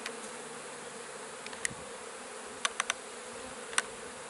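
Honeybees buzzing softly around an open hive box, a faint steady hum broken by several sharp little clicks and knocks, with no voices.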